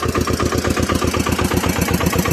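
A tractor engine idles close by, its low diesel chug thumping in a fast, even rhythm throughout.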